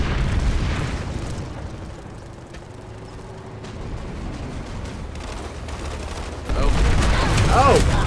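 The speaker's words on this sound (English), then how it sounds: "I got my face blown off by a tank" A tank shell explosion in Planetside 2, a deep booming blast over a rumbling battlefield with scattered distant gunfire, and a louder burst near the end.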